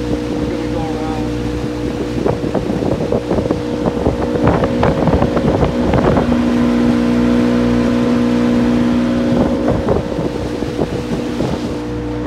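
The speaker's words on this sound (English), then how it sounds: "We're taking a little break and going boating in the Adirondacks today" A motorboat cruises on an Adirondacks lake with a steady, loud engine drone and a sustained hum, while wind buffets the microphone throughout.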